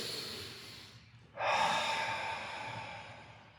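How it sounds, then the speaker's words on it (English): A person takes a deep breath during a couch stretch: a faint exhale fades out, then a loud, sharp inhale kicks in and eases into a long, steady breath out, close up with no talking. "We're gonna go on those 3 breaths"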